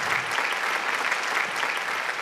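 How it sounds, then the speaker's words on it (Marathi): Loud, sustained applause from a crowd at a Sankranti Queen pageant in Aurangabad welcomes the judges, an even wash of many hands clapping with no distinct speech. "जोरदार टाळ्या जजेससाठी"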